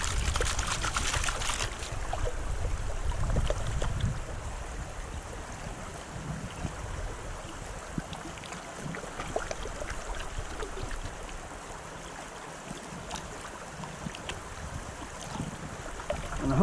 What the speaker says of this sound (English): Just dip it in, let the water wash it off.